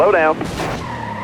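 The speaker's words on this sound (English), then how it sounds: "You earned that a little bit of a spin and a burnout there" Car tire squeal as a stock car skids in a spin in NASCAR Heat 4, a short harmonic screech at the start, followed by a brief rushing noise as a voice speaks over it.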